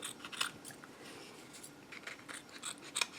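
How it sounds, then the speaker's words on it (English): Scissors snip around a felt circle for wooden Christmas ornaments, a series of quick close crisp cuts, irregularly spaced and fairly quiet. "look at how easy this is to cut this out around that circle"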